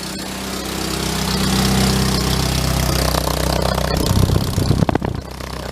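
A 1953 MG TD engine with an exhaust leak underneath idles steadily, close and loud, with a rougher, uneven sputter toward the end.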